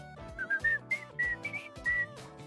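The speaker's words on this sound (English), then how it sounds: "I can't whistle very well if you couldn't tell." A person whistles the Old Spice commercial jingle in a short, wavering melodic run of several notes, close and fairly clear, with no talking over it.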